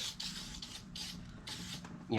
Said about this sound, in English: So just spray that on there.